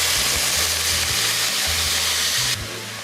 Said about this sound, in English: also cooking and sauteing the vegetables in the same stock pot